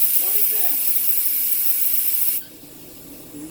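Loud steady air hiss from a locomotive brake valve as the equalizing reservoir is reduced, lasting over two seconds before cutting off abruptly and leaving a quiet hum.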